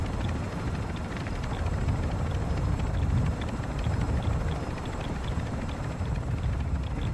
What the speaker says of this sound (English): There's a heavy chopper next door.